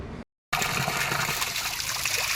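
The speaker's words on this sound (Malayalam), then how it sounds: "ഈ കുഴൽക്കിണറിൽ നിന്നും ഇപ്പോഴും നിലയ്ക്കാത്ത നീരുറവയാണ് പ്രവഹിക്കുന്നത്" Water gushes steadily from a borewell that keeps flowing through the dry summer, a close, continuous splashing rush that starts after a brief silent gap.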